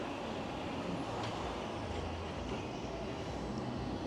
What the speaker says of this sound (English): Tram's just going out.